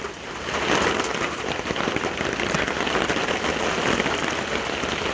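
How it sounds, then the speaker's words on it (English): Heavy rain pours down during a Reno, Nevada thunderstorm, a dense, loud and continuous hiss of drops beating on surfaces close by for the whole clip. "it's raining like hell over here"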